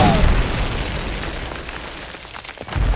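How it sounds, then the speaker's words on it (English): A cartoon fusion detonator explodes on a statue: a loud booming blast opens the clip, rumbles and fades over a couple of seconds, then a second heavy burst swells near the end. "Oh, and I might have put a fusion detonator on the statue."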